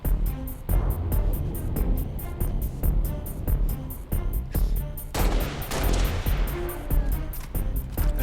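A Brute fires a fuel rod gun in Halo: Reach amid loud, continuous combat, with repeated sharp blasts and a heavier burst partway through, over dense battle noise.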